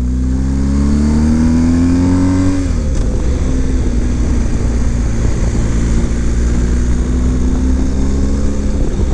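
A Harley-Davidson Pan America motorcycle being ridden off-road revs its engine with a loud, close drone that climbs in pitch, drops abruptly, then settles into a steady rough running note.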